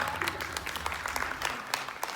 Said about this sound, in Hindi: प्लीज अपने लिए ताली बजा दीजिए एक बार